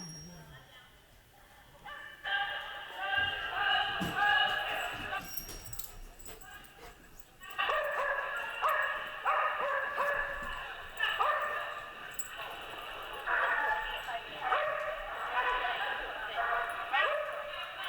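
Dog barking during an agility run, scattered sharp yips and barks mixed with a talking voice and busy background activity.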